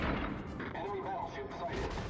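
A battleship's artillery salvo booms in World of Warships: Legends, a cluster of heavy, rolling gun blasts overlapping in quick succession over continuous battle noise.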